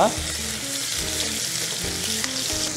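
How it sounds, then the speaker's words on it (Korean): Salt-seasoned beef chuck flap steak hard-seared in a hot pan, giving a loud, dense, continuous sizzle and crackle up close with faint scraping underneath, no voices. "소금만 뿌린 살치살을 올려보도록 하겠습니다"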